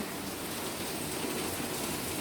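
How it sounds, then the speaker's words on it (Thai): Heavy rain pouring at night, a dense steady hiss of drops on surfaces heard from the second floor of a house, fairly faint and unbroken with no audible thunder or talking. "ดูฟังเสียงฝนตกฟ้าร้อง"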